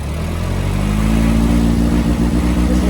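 Dune buggy driving with a worn transaxle, a steady loud low engine drone carrying faint rattling clatter throughout, with no voices.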